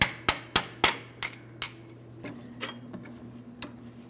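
Light hammer taps on a steel punch driving out a CV axle bolt on a 2005-2010 Chrysler 300 5.7L V8, several sharp metallic strikes close up in quick succession, then a couple of softer taps over a faint hum.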